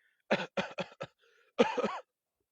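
A short series of harsh coughs, about four quick bursts, a brief pause, then another rougher coughing fit, close and fairly loud.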